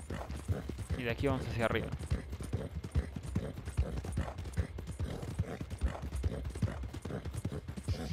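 A black Arabian horse in the Red Dead Online game trots with steady, continuous clip-clopping hooves throughout, while someone talks over it.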